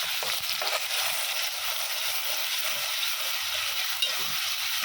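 Chopped onions fry in hot oil with spluttered cumin seeds, a steady, close sizzling hiss with a couple of faint stirring knocks and no talking.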